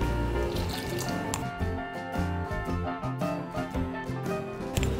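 Water poured little by little into a rice flour batter, wet dripping and squishy mixing sounds, close and continuous with irregular splashes.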